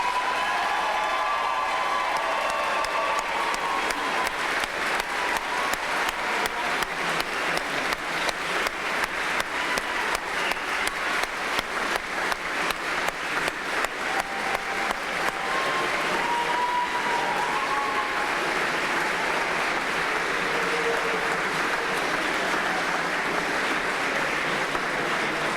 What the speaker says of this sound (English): Let's give all of our new police officers a round of applause.